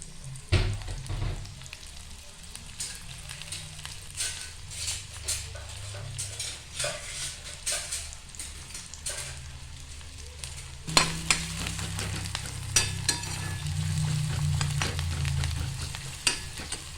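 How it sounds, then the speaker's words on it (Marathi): Chopped onion sizzles steadily in hot oil as a Marathi tempering for a simple vegetable dish begins, with a continuous close frying hiss, intermittent stirring clinks of a spoon against the pan, and a louder burst of sizzle partway through. "आता आपण फोडणी घालूया हे तेल कांदा घातला"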